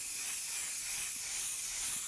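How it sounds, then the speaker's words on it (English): A continuous close hiss of One Size setting spray misted steadily onto a made-up face, an even airy spray that runs without pause for about two seconds with no talking. "Freaking do love this setting spray."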